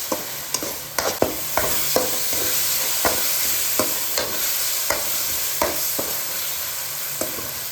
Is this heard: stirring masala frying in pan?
yes